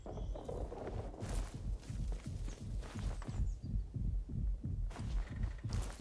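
A heartbeat in the video game Atomfall thumps in a steady, low, close rhythm through the whole stretch, loud and pulsing with no talk over it.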